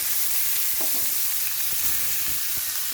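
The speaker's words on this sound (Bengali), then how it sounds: "এবারে আমি এই থোড়টা এই তেলের সাথে একটু ভেজে নেব।" Banana stem frying in hot oil with cardamom, cinnamon and cloves, a dense close sizzle with repeated stirring scrapes and clicks across the short stretch, no talking.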